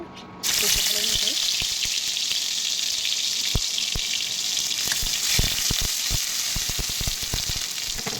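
Onion paste hits hot oil in a home kitchen and bursts into a loud, steady sizzle right up close, with scattered crackles and pops and occasional spoon clatter continuing throughout.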